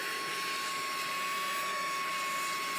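A portable cordless vacuum cleaner with a built-in blower, used for a Tesla, runs on high power with a steady, close airy whine and a constant tone, with no talk over it.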